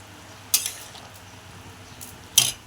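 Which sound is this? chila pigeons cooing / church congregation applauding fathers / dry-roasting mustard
dry-roasting mustard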